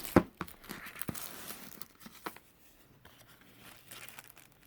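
Wrapping paper crinkling and tearing during gift wrapping, close and quiet, with a sharp rip at the start followed by scattered soft crunches and rustles.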